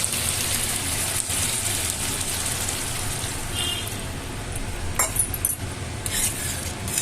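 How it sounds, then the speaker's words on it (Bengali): Water is poured into fried masala sizzling in a pan for a rui fish gravy, a steady hiss and bubbling sizzle with a few sharp utensil clinks partway through. "মশলাটা এখন আমি গ্রেভির জন্য জল দিয়ে দেবো"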